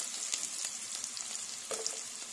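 Garlic sizzling in hot oil among softened onions in a pan, a steady close crackle with small pops and stir scrapes, no voices.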